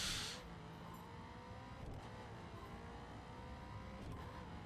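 Car engine driven in The Crew racing video game, a steady droning hum with slight revving swells throughout, moderately loud and alone with no talk.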